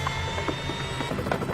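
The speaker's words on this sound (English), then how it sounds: "Mexican military helicopters fly in personnel and supplies to the isolated city." Mexican military helicopters fly in over an isolated city struck by a flood and landslide, giving a loud, steady rotor drone with faint rhythmic beating throughout.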